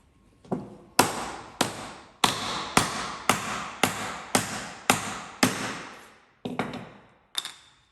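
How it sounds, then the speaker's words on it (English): About a dozen crisp, sharp taps from a light hammer striking sacrificial timber to seat a wooden mortise and tenon joint, evenly spaced at first with a brief pause and a few final knocks, each ringing off quickly. "If you need to hammer your joint together, it should be done with some sacrificial timber and very light taps."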